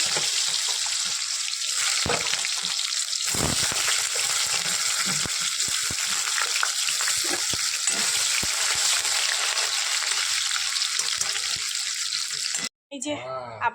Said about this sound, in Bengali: চলো এবার আলুটা ভাজ